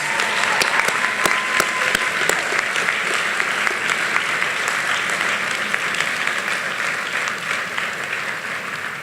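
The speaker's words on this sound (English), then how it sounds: "Graduates, please stand and take a moment to give a warm round of applause to that faculty behind you" At a college commencement, standing graduates give a warm round of applause to faculty and families, a broad, even clapping from a large crowd with a few sharp individual claps standing out early.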